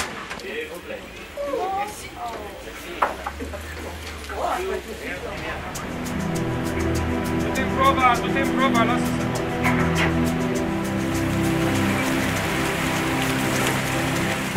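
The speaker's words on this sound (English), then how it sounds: "A light summer rain breaks out just as we're about to leave." Light summer rain falls over the Danube beside a river cruise boat, a soft steady patter under a narrator's voice, then a broad rushing wash with a low hum as the rain settles in.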